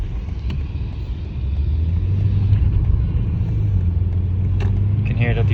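A BMW M car cruising with its exhaust valves closed gives a low, steady engine drone that swells slightly partway through, heard from the cabin under some background noise.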